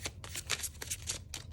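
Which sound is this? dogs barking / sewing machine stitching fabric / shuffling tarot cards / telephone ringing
shuffling tarot cards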